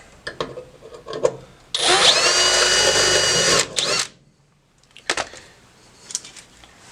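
A power drill up-drills a hole in a Sonex aircraft build, one loud, close whirring run of about two seconds, followed by short clatters and tool-handling taps.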